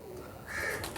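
A female breeder pigeon gives a soft, close coo, a low rolling murmur that rises into a brief throaty swell before fading, heard alone.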